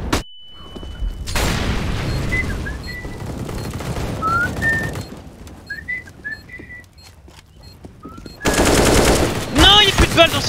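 AK rifle firing on the Counter-Strike map Cache, sharp rapid bursts of automatic gunfire, loud and close, with pauses between volleys and a heavy final burst near the end.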